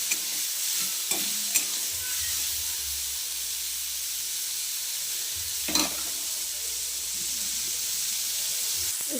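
Bitter gourd frying with turmeric in a pan, a steady close hiss of sizzling oil throughout, broken by a few scraping stirs of a spatula.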